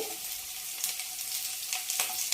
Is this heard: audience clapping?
no